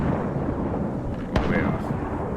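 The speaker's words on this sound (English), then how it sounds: "Cannons are really good. I like the sound of the cannons, yes." A ship's cannon in Mount & Blade fires one sharp, loud report partway through, set against a dense, rumbling battle background.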